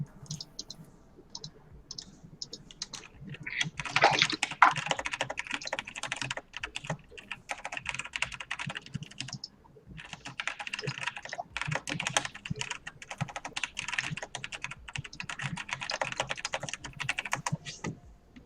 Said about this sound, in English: Your typing doesn't sound that loud in real life, but boy, does it sound loud on here.